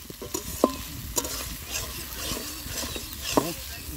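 Spices being sautéed and stirred in a pot over a fire at an outdoor family picnic, with a steady soft sizzle and a few sharp scraping clinks of the stirring spoon.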